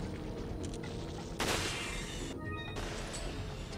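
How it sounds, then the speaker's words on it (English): A flashbang grenade detonates in Resident Evil 4 with a sudden loud broadband burst partway through, ringing under a steady wash of game combat noise and scattered gunfire-like cracks. "Flashbang that psycho"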